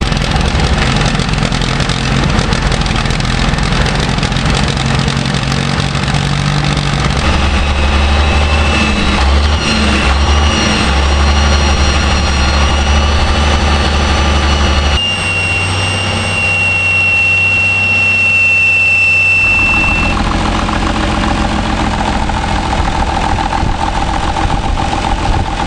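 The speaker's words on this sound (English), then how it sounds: "Listen to a restored DW20, upgraded with a newer model's manifold, turbo, and intercooler, producing the loudest turbo scream ever" A restored DW20 engine fitted with a newer manifold, turbo and intercooler and free of exhaust leaks runs loud and close. A deep, constant engine drone sits under a piercing high turbo whine that holds and shifts in pitch.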